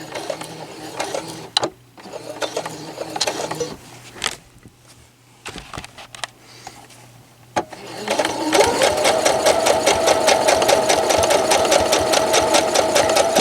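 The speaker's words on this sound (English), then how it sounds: "this time I am going to do a couple stay stitches." A sewing machine runs stay stitches across a felt gift bag, with handling noise and a few brief stitch bursts at first, then a steady, fast, close whir of continuous stitching.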